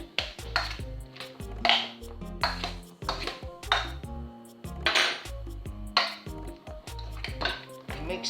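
Macaroni being stirred with butter in a baking dish for oven-baked macaroni and cheese, giving repeated clinks and scrapes of a utensil against the dish in an uneven rhythm, close and fairly clear with no talking.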